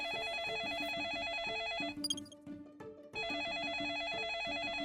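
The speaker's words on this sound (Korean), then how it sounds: "누가 전화 좀 받지?" An office telephone rings with a steady electronic trill, loud and close, repeating in two long bursts around a brief pause with a few background clatters.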